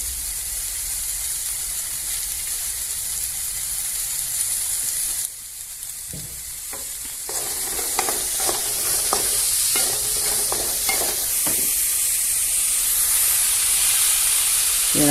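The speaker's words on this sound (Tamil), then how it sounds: "அடுத்தது சுண்டைக்காயை நல்லா வதக்கிடணும்" Turkey berries sautéing in oil in a pan, a continuous close sizzle and hiss, joined partway through by sharper stirring scrapes and crackles as the frying grows louder.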